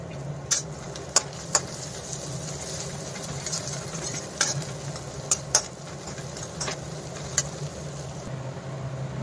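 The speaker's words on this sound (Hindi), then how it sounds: "अब मैं इसमें डालूंगी अदरक लहसुन कूट लिया है मैंने" Crushed ginger and garlic sizzling in hot oil for a tempering, a steady fry hiss broken by scattered sharp clicks of stirring against the pan, with no speech.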